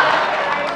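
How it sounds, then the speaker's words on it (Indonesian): Brief burst of audience applause at an Indonesian gubernatorial election debate, a dense steady clatter of clapping from a crowd filling the whole short moment. "memberikan tepuk tangan yang meriah masing-masing kepada masing-masing pasangan calon"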